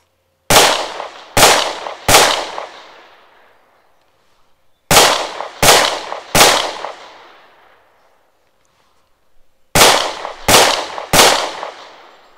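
A Smith & Wesson Shield Plus pistol chambered in 30 Super Carry fires three loud, sharp shots in quick succession, then two more strings of three after pauses, each crack ringing out briefly outdoors.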